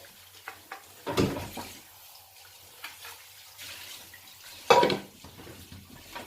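Cleaned chicken feet rinsed in a sink, with water splashing in bursts and dishes knocking now and then, close by and moderately loud among quieter pauses.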